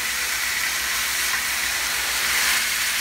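Beef tournedos searing in a hot pan, a steady, loud, dense sizzle that holds evenly throughout without pauses.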